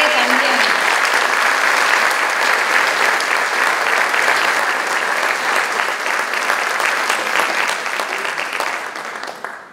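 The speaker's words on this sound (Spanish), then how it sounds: "Vamos a darle ese fuerte aplauso," Sustained audience applause fills a theater hall during a diploma presentation at a restoration event, steady dense clapping running throughout and tapering slightly toward the end, with some crowd voices mixed in.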